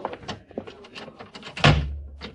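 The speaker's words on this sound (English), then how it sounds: "close the door" A door closes with a solid thump in an old-time Western radio drama, a single heavy knock amid quiet shuffling and movement sounds.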